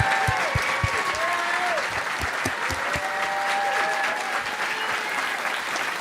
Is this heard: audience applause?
yes